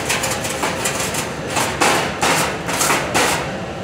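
A wire brush scrubs slag off a fresh stick weld on a piece of metal, giving a series of rough, rhythmic scraping strokes at close range, fairly loud and steady with no talking.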